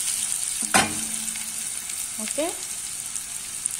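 Something fries in a pan with a constant bright hiss and sizzle, while a brief voice and a couple of utensil knocks rise over the steady frying.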